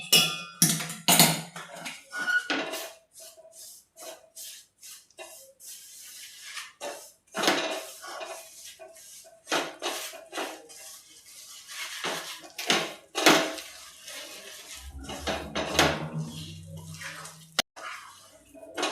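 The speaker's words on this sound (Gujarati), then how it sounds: "આપણે આમાં નાખી દેશું અને ફટાફટ મિક્સ કરી લેશું" Sesame seeds being stirred quickly into hot jaggery syrup in a pan for sukhdi, with repeated close scraping and clinking of a spoon against the metal pan in an irregular, busy rhythm.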